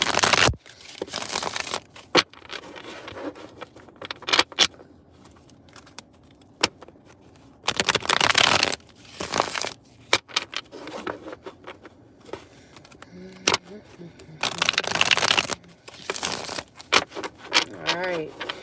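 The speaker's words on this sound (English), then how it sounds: "I will shuffle these cards up a few more times" Tarot cards being shuffled by hand, with repeated bursts of riffling and flapping spaced through the stretch and quieter handling rustles in between, with a person talking intermittently.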